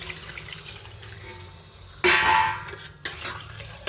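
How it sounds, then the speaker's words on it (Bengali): Water is poured into a pan of toasted cumin and flour mix, a brief loud splash and sizzle followed by a second short burst and stirring clatter. "এর মধ্যে দিয়ে দেবো আমি অল্প পরিমাণে জল।"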